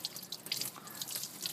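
Running water from a tap or sink poured over a child's teeth, a steady splashing trickle with drips, close and moderately loud, with no talk.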